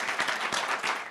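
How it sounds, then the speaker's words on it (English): Applause from a conference audience at a cancer genomics meeting, a dense wash of many hands clapping at moderate level throughout, with no voices over it. "for a round of applause for him"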